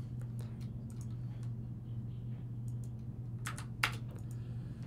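Scattered keystrokes on a computer keyboard, clicking in short uneven bursts with a few louder taps, close by over a steady low hum.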